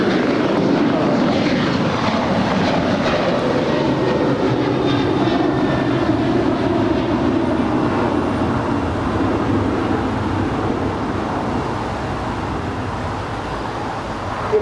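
Air Canada airliner taking off from runway 25 right at Los Angeles International Airport, a steady loud jet engine roar held throughout without talk.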